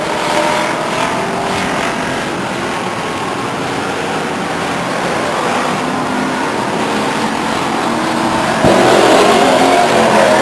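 Race cars on the final lap at Stockton 99 Speedway, the number 97 car leading, keep up a loud, continuous engine roar that swells sharply near the end as the pack passes close by.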